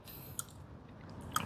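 Someone chews a crunchy fried grasshopper up close, a faint steady mastication with a couple of sharper crisp crunches, no talking.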